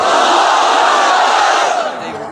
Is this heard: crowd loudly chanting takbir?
yes